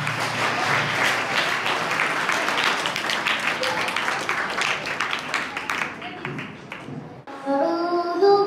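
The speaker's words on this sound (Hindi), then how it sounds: "जोरदार तालियां सुमैया का वास्ते" Sustained crowd applause for a student at a school event, dense steady clapping that runs for several seconds before tapering off, after which a voice begins reciting.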